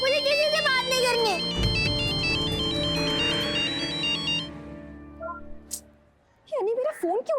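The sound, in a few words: phone ringtone ringing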